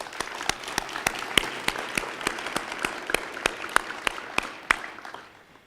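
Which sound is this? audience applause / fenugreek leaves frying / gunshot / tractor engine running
audience applause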